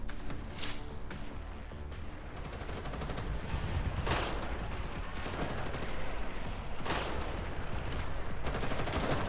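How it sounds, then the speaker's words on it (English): Sustained automatic gunfire from a firefight in the Girls' Frontline 2 shooter game, dense rapid bursts layered over a heavy low rumble with a few sharper louder shots, continuous and loud throughout. "After a round of exchange fire, Lucy's group successfully destroys all automatons at the forefront"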